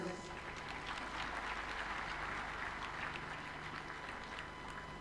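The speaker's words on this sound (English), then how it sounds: "Another super applause for our host." A large audience at a 2025 devolution conference launch in Homa Bay applauds, producing sustained, dense clapping throughout, with a voice talking faintly underneath.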